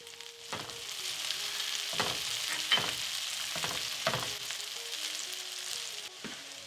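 Chopped garlic and caramelized onions fry in vegetable oil in a pan, giving a steady close sizzle broken by several stirring scrapes at intervals.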